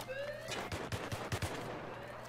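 Rapid gunfire in the video game Battlefield 3, a short burst of five or six sharp shots in quick succession over a busy game background, moderately loud with no talk.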